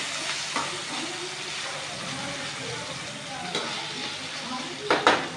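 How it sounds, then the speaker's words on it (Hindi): Potatoes cook in a pan over a low gas flame for Sindhi methi aloo, giving a steady, soft sizzle with occasional stirring clinks, while a voice talks softly underneath. "हल्का सा पकाएंगे 2 मिनट के लिए सिम गैस पे।"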